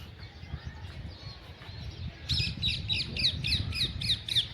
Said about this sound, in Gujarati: પંખીઓનો અવાજ આવ્યો અટાણે